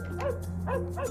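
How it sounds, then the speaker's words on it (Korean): An electronic toy button plays a recorded dog barking sound, two short synthetic woofs about half a second apart, thin and close with a faint hum underneath. "강아지 소리"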